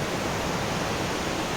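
A waterfall pours steadily, its dense, even rush of falling water loud and close without pause or voices.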